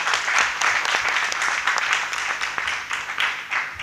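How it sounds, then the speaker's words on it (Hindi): Enthusiastic audience applause at a literary event honoring a lecturer and panelists, a dense burst of many hands clapping steadily for about four seconds with no talking over it. "एक बार ज़ोरदार तालियां और बजा देते हैं हम लोग"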